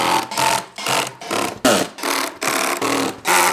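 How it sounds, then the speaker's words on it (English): Screws being driven into an MDF desktop board, a loud close power drill whirring in repeated bursts of about half a second, each rising and cutting off with brief pauses between. "Put screws on opposite corners first, and then we can do the rest of them"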